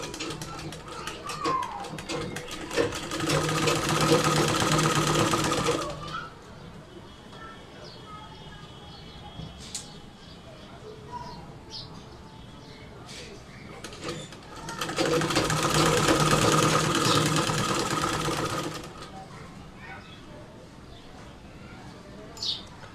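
Domestic sewing machine stitching the neckline band and zip of a kameez, running in two long continuous bursts of motor whir separated by quieter handling, with faint birds chirping in the background.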